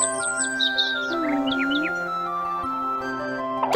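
Several birds chirp and tweet in a quick string of bright, high calls over a steady tonal backdrop, close and clear.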